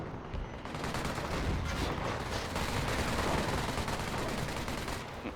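Dense, continuous battle din from Company of Heroes 1 (EF mod, 4v4 match): machine-gun bursts and artillery fire overlap into a loud, unbroken wall of gunfire with no talking.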